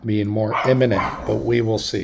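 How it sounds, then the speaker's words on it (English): Dogs bark indoors in the background, partly masked by someone talking steadily over them. "Sorry about my dogs."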